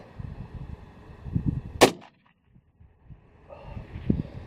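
A single sharp, loud report from a Lithgow Arms LA102 .223 rifle fired outdoors in wind, with a quick fading tail and a quiet stretch afterwards.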